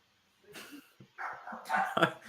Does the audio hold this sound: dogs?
yes